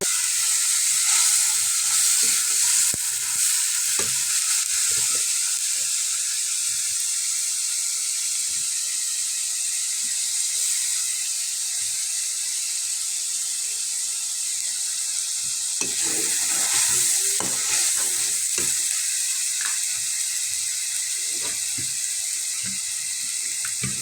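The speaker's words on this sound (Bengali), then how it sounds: "হালকা একটু পানি দিব।" Ginger paste sizzling steadily in a pan with a splash of water, a continuous close hiss and crackle broken by scraping stirs, no talk.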